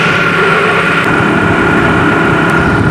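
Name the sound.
car engine idling, rough misfire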